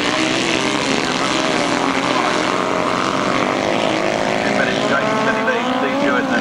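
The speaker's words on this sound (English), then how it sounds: "The tapes fly and the first sidecar race of the afternoon gets underway." Grasstrack sidecar motorcycles racing at Staplecross, led by a 1000cc Kawasaki with a V-twin Drifter close behind, a loud, steady roar of engines with shifting pitch throughout and commentary over it.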